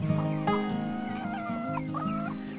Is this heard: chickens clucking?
yes